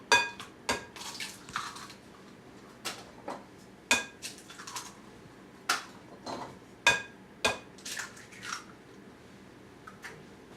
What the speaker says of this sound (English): we're going to crack 4 eggs